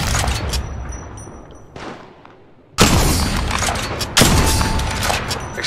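Heavy gunfire rings out in the video game Apex Legends. It comes as loud, dense bursts of shots with booming impacts, a brief lull in between, then two sustained volleys.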